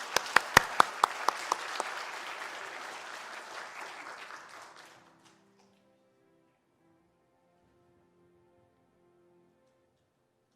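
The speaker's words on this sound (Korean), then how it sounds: "우리 한번 박수로 맞아주시기 바랍니다" Church congregation applauding to welcome a testimony speaker at a Sunday joint worship service, with dense clapping and a few sharp claps up front that fade out after about five seconds, leaving near silence.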